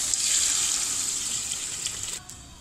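Water pours steadily from a tap into a pot of fried spiced chicken for Sobat, a traditional D.I. Khan dish, a close hissing gush that runs continuously and stops abruptly near the end.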